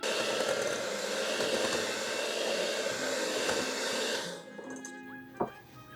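An electric mixer beats pomegranate cookie dough in a bowl with a loud, steady motor whine that cuts off about two-thirds of the way through, leaving a faint hum and a single clunk.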